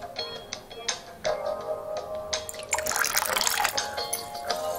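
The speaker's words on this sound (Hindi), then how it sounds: "ऑरेंज फूड कलर डालने के बाद हम इसमें ऐड करेंगे 1 लेमन जूस।" Lemon juice poured into an orange popsicle mixture, giving a light liquid trickle and drips with small taps and clinks from the container, close and fairly quiet, without talk.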